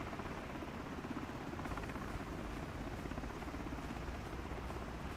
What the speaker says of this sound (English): This is a great chopper.